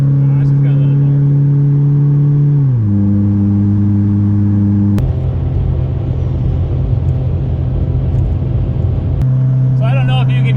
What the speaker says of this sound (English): I don't know if you can hear the car. But it is not happy.